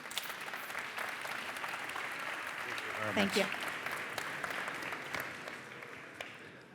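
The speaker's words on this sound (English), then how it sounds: "Your applause, please." An audience at a manufacturing technology conference applauds steadily as a speaker is welcomed to the stage, with a voice briefly speaking over the clapping midway.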